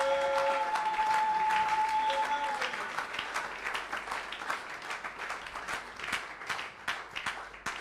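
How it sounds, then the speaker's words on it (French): A church congregation applauds during a Sunday service, with loud, sustained clapping from a full room that thins toward scattered claps at the end. "Acclamez Jésus"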